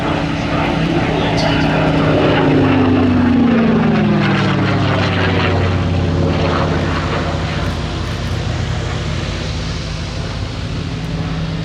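A Yakovlev aircraft with a radial engine flies at a flying display at Shuttleworth, a loud steady propeller drone with a falling Doppler sweep as it passes, lasting throughout, with faint talk beneath.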